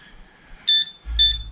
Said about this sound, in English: This is used primarily people metal detecting for ground, beeps when you get close to something.